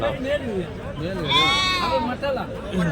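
Jodipi sheep and young rams bleat repeatedly at a busy livestock market in Nellore, with a strong, drawn-out cry in the middle, all beneath steady nearby talk and crowd chatter.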